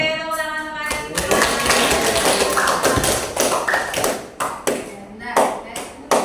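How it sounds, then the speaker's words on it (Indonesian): A classroom of sixth-grade children claps hands together in a fast, dense burst of applause that thins into scattered, uneven claps, with young voices calling out over it. "Oke, tepuk tangan semuanya."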